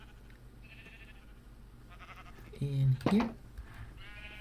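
A short, loud sheep bleat in Minecraft sounds once over a quiet game background, following a brief spoken phrase.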